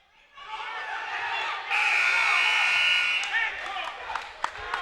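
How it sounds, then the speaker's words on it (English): A loud electronic buzzer ending a high school wrestling match sounds for a couple of seconds over crowd noise in an echoing gym, with scattered thuds afterward. "And there's the buzzer."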